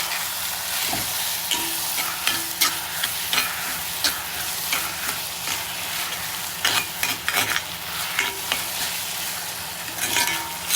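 Onion and tomato sautéing in a pan for paneer bhurji, with a steady sizzle and repeated scraping stir strokes of a spoon against the pan, close and fairly loud throughout.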